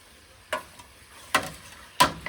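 Soup ingredients fry in oil in a pot while a spoon stirs them, three distinct scraping strokes over a faint sizzle, close and clear, no voices.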